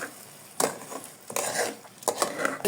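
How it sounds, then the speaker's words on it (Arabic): Rice stirred in ghee in a pot makes a few separate bursts of scraping and rustling, each close and fairly soft, separated by short quiet gaps. "تقلبي لغايه ما تسمعي خرفشه الرز عشان يبقى ايه مفلفل"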